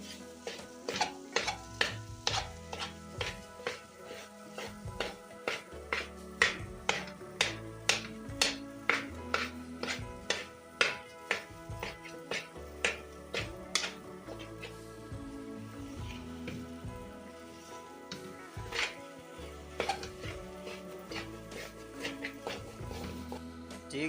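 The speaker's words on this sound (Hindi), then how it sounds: "लेकिन अभी हमने इसे और भी भूनना है और इसे मिक्स करते रहना है।" Makhandi halwa being roasted and stirred in a pan, a long series of sharp spoon scrapes and taps against metal with a faint sizzle underneath, rhythmic at first then sparser, heard close and quiet.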